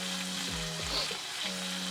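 Pork browns in a hot pan for an adobo patty melt, giving a steady close sizzle and crackle with a low tonal hum beneath and no voices.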